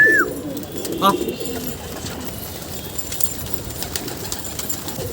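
A pigeon perched on top of a building coos briefly at the start, a soft low call that fades into steady outdoor background noise while a voice speaks a single short word.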